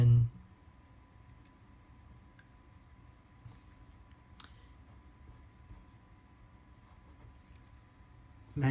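Math being written on a board during a lecture: faint, sparse scratching and ticking strokes over a quiet room hum, with a few sharper taps and a louder bump at each end.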